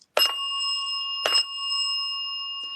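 A ghost-hunting bell device rings twice, each strike a bright, close chime whose metallic tones hang on and sustain steadily between and after the hits, with no voices.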